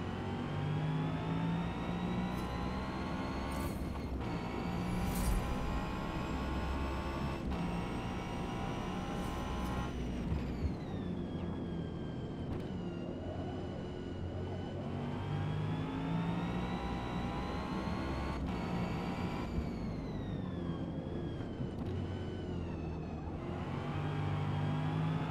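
A new Ford Mustang in the Forza Motorsport racing game, its engine droning loud and continuous, then dropping pitch and revving back up through gear changes and downshifts, with no talk.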